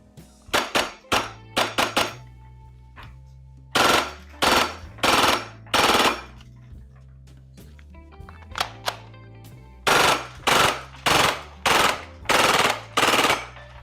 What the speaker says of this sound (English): That full auto performance was kinda weird.